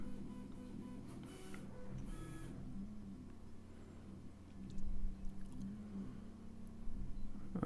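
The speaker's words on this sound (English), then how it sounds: "Just cleaning the nozzle." A Valkyrie high-temperature 3D printer working through a nozzle-cleaning routine makes a close, continuous mechanical whir and hum with soft scraping, brief hissy bursts early on and a few louder knocks near the end.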